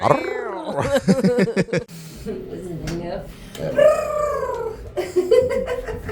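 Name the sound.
voice imitating cat purr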